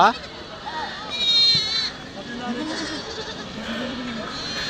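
Large goats bleat loudly and repeatedly amid the busy Kadiri sheep and goat market, with people talking and calling out over the animals throughout.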